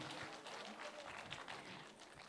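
Continuous, dense clapping from an audience at a 60th anniversary celebration, steady and fairly distant, with no pauses.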